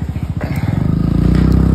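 A small motorcycle climbs a high mountain road in Kupwara's Bangus Valley, its engine close and steady with a rising, pulsing putter that grows louder and more even as it nears.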